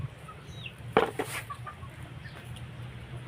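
Chickens cluck beside a pen set aside for chicks, with a sharp cluster of calls near the start and softer scattered clucks afterward over a low steady hum.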